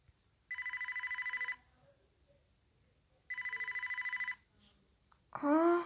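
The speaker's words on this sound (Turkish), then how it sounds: "Telefonum çalıyor." A mobile phone rings indoors at home, two long warbling electronic ring bursts about a second each separated by a pause, followed by a short voice at the end.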